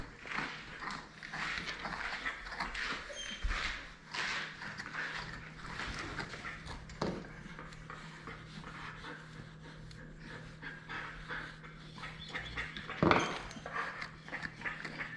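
A damp Australian Shepherd pants rapidly and steadily while its undercoat is brushed out by hand at a grooming salon, a close rhythmic breathing with occasional thumps and handling noises.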